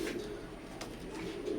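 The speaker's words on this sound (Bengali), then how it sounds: "এখন স্ক্রিনে যে কবুতর জোড়া দেখতে পারতেছেন সাকিব লাইনের এক জোড়া রানিং কবুতর" A pair of imported Teddy running pigeons coos softly and continuously, the low, steady murmur sitting close but quiet, with faint background hiss and no talk.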